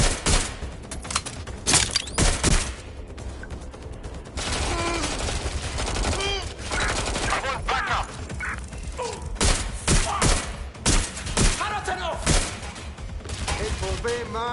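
Bursts of gunfire in Watch Dogs Legion crack out in loud volleys and rapid strings, mixed with thuds and impacts, while voices shout over the shooting.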